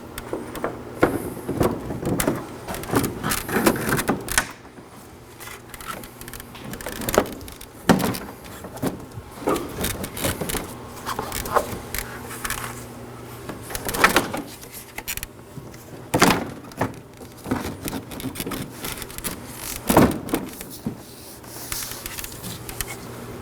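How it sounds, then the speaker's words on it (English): A front bumper on a 2013-2019 Nissan Sentra is pushed back into place: close plastic rubbing, scraping and dull knocks come in uneven bursts over roughly twenty seconds, with no one talking. "And now to reinstall our bumper"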